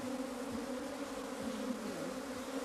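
A strong, docile honey bee colony hums from an opened hive, a steady close drone with passing individual buzzes from bees flying near, and no talking.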